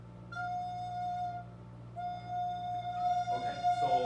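A single sustained recorder note, the note fa, played with two holes covered, held steadily and briefly restarted, alone and fairly close, with a soft hum beneath and a few light noises near the end.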